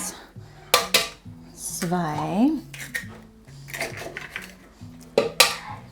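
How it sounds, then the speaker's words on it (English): Eggs cracked and stirred in a bowl for pancake batter in a home kitchen, with sharp clinks of utensil on dish and a brief whisking swirl, close and moderately loud, mixed with voices talking. "let's start by cracking the eggs and stirring those up first."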